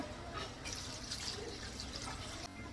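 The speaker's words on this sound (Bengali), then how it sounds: "এখন আমি জল দিয়ে দিব" Water poured into a pan of chickpea curry cooked with goat fat, a steady close-up splashing, trickling stream lasting about two seconds.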